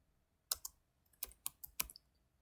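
Clicks on a computer keyboard as a network switch command is typed, about eight sharp, close keystrokes in uneven bursts over a quiet background with no talk.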